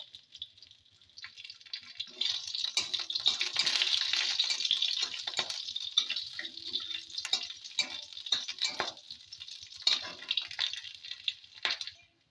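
Black cumin seeds and two slit green chillies fry in hot mustard oil: a steady, close crackling sizzle that swells and then continues with sharp pops and spits.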